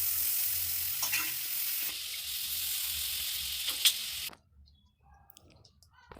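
Butter for butter chicken sizzles in a hot pan with a loud, steady hiss and a few light clicks, then cuts off abruptly to near silence.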